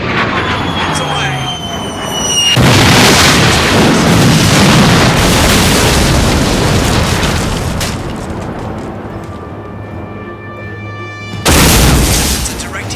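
A missile scores a direct hit in a flight combat video game, sounding as a loud, sustained broadband blast that rumbles for several seconds before fading, then a second burst near the end, over steady engine drone.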